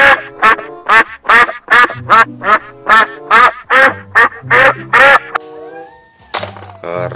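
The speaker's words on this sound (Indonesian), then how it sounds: "ini ada bebek." A duck in Jurassic World Evolution 2 quacks loudly and repeatedly in a quick steady series of nasal calls, followed by a short pause and then a final quack.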